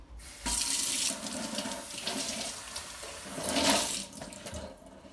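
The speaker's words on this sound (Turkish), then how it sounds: "Şimdi hemen şunu bir sudan geçireyim." Tap water runs into a sink while something is rinsed under it, a loud splashing rush that rises and falls as the object moves through the stream, with no voices.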